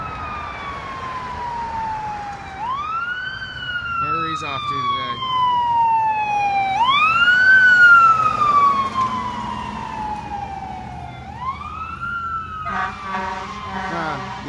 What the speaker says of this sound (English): Here comes fire truck.